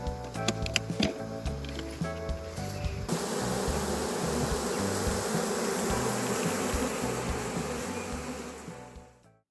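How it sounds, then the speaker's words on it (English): A dense, steady buzzing of a honeybee swarm close by as it is collected into a hive, continuous and loud, with some clattering in the first few seconds before fading out at the end. "All the flying bees collected inside."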